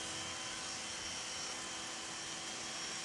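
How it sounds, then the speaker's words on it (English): A rotating diamond-coated dental burr grinds a tooth's occlusal surface during bite equilibration, giving a steady, close, continuous high-pitched whir with a broad hiss and no pauses, alone without talk. "a different instrument, a rotating burr, which is coated in diamond"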